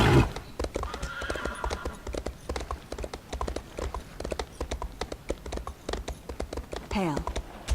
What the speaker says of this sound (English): Get my little lucky horse.